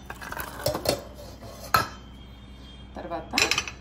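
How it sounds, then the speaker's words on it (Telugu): Cooked food is moved from a pot into a bowl in a home kitchen: a few sharp metal clinks and scrapes of a spoon against cookware come in separate bursts over a quiet background. "దీన్ని అయితే ప్రస్తుతానికి ఒక గిన్నెలోకి షిఫ్ట్ చేసుకుంటున్నా"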